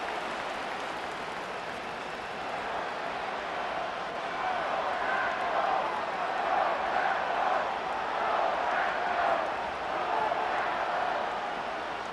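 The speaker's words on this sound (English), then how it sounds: "This crowd urging the defense on" A virtual stadium crowd in Madden NFL 25 cheers on the defense during a Dolphins versus Packers game, a diffuse, swelling roar that rises and falls under steady play-by-play commentary.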